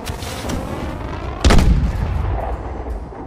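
A smart grenade detonates in Call of Duty: Advanced Warfare, a single loud close blast at mid-clip that rolls off into a rumbling tail over steady game background noise.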